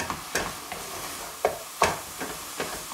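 Spinach cooks down in a pan with a continuous sizzling hiss, punctuated by several soft stirring scrapes as the leaves are moved around; no speech.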